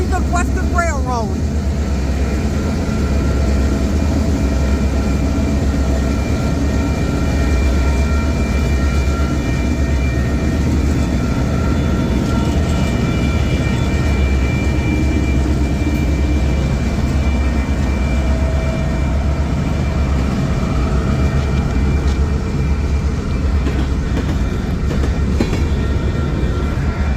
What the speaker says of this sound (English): I get 2 trains in one day.